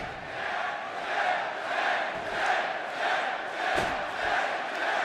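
Wrestling arena crowd at the Air Canada Centre in Toronto during an NXT TakeOver event, chanting for Bobby Roode in a steady rhythmic swell, loud, massed and echoing.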